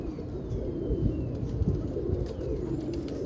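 Pigeons cooing in low, repeated throaty bursts, fairly close, with a soft background hum and no voices.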